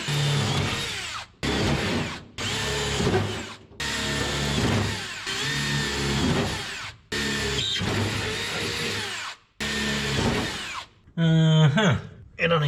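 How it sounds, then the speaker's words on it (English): A power drill boring holes in a 1973 Chevrolet, running in about eight loud, whining bursts separated by short pauses. A brief rattling clatter comes at the end. "I'm just gonna drill them with it on there"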